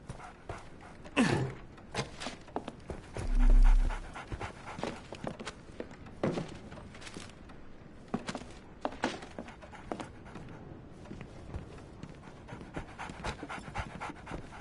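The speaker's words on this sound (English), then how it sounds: "So, Barnes has a dog now." A dog pants in the Sherlock Holmes: The Awakened video game, a steady, fairly close huffing with a brief low rumble partway through, and no voices.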